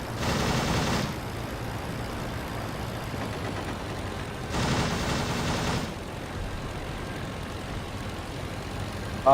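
Aircraft gunfire in a World War I flight video game: two short bursts of rapid machine-gun fire over a continuous engine drone, fairly loud and without talk.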